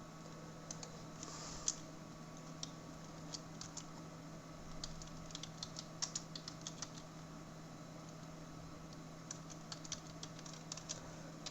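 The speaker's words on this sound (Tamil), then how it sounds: "டைப் பண்ண வேண்டியது மட்டும்தான் பாக்கி." Soft, quick clicks of typing on a computer keyboard come in irregular bursts and pauses, faint and close over a low steady electrical hum, with no one speaking.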